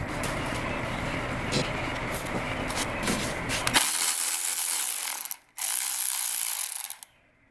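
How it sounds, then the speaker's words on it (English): A cordless Milwaukee M12 electric ratchet whirs as it undoes bolts while a 2JZ engine comes out of a MKIV Supra, with a long buzzing run, a brief pause, then another close, loud burst that cuts off sharply. "I switched to the Milwaukee M12 ratchet."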